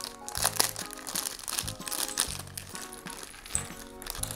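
A plastic surprise sachet holding a toy figure is torn and opened up close, giving a run of sharp crinkles, crunches and small cracks.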